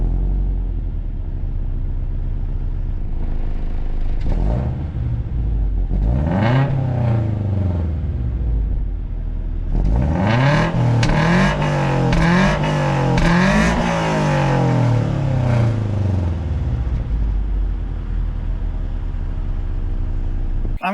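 A Toyota GT86 fitted with a Milltek exhaust drives past, revving and accelerating hard, with rising and falling engine sweeps and a loud burst of throttle through the middle before it eases off.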